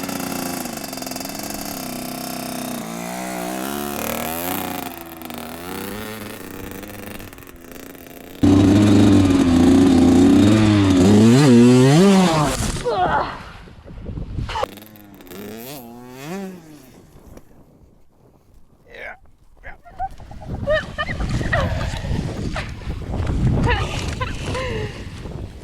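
A Kawasaki KX100 two-stroke dirt bike climbs a hill, its engine revving hard and rising in pitch as it hits the power band, then dropping off and fading before revving again at a distance.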